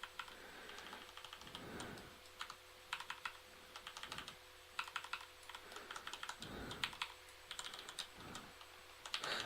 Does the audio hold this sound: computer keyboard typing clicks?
yes